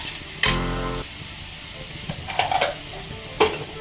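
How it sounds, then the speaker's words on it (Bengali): Chopped onion hits hot oil with a sharp burst of sizzling, then settles into a steady fry with a few scraping stirs of a utensil in the pan. "আমার অয়েলটা হিট হয়ে গেছে, আমি এখন পেঁয়াজ কুচিটা দিয়ে দেব"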